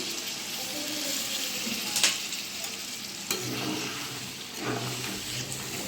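Water poured into a hot pan of cooking country chicken, giving a broad hissing sizzle with a couple of sharp clanks and spoon scrapes, steady and close.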